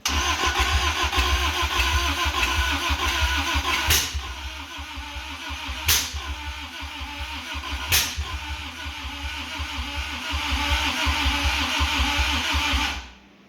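A Toyota MR2 with a 4A-GE engine cranks steadily without catching, its starter churning in a fast, loud rhythm broken by brief pauses before finally stopping.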